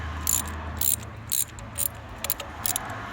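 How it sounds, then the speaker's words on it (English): A ratchet wrench clicks in short bursts while turning a spark plug in or out, with a light metallic ratcheting rattle at close range and no talk. "make sure that you're set on that spark plug to drive it out and to tighten it up."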